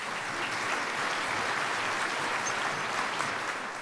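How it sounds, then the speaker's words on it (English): Audience applause at a 2011 banquet honoring school principals, a dense steady wash of many hands clapping at even loudness throughout, moderately distant, with no speech over it. "Let us give her a warm applause."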